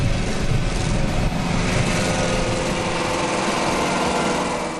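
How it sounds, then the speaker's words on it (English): A 1928 Alvis front-wheel drive car runs along loud and rough, its engine giving a harsh, buzzing drone that holds steady throughout and eases off slightly at the end, with no voices. "A jaunt with the Pioneer front-wheel drive can best be described as a loud and rough ride."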